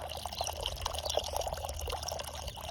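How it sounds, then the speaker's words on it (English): Water pours into a children's water table with a soft, continuous splashing trickle, fairly quiet and close, with no talking over it. "So I could put more water in the water table."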